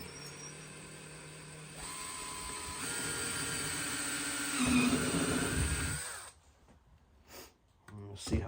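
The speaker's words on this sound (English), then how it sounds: "going to drill right through it." A power drill bores straight through a ToughBuilt Stack Smarter handle, a long high whine that shifts pitch and strains louder midway before cutting off, followed by a few short clicks and handling noises.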